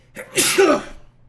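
A single sharp human sneeze with a brief breathy intake and a loud burst, close to the microphone, heard alone during a tabletop role-playing game session.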